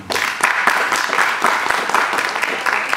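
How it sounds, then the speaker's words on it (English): A chapel audience at Shorter College applauds for about three seconds, a dense, steady wash of many hands clapping with no voices over it. "Thank you guys for that warm round of applause"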